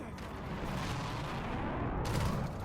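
Gunfire and explosions rumble in a Black Ops 7 multiplayer match on the Sake map, a dense, distant-sounding barrage of booms and shots continuing throughout at a low level.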